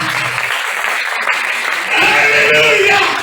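A church congregation applauding during a worship service, sustained dense clapping that swells louder in the second half, with voices mixed in.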